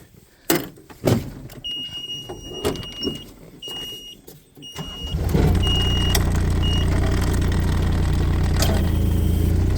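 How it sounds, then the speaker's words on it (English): Takeuchi TB216 compact excavator starting up: a few clanks and short whining tones, then the engine settles into a loud, steady drone with hydraulics straining as the thumb is pulled fully back against its relief valve. "you can just hear that bypass of the relief valve there when I pull the thumb all the way back"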